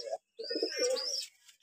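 A pigeon of a black-headed fancy breed gives a short burst of throaty cooing and calling, close and fairly clear, with a brief gap before a longer warbling call.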